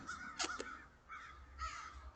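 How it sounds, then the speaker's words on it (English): Crows cawing outdoors, a few harsh, separate calls spaced across the moment, moderately distant and fairly faint over a low background hum. "Nobody like me but the crows, man."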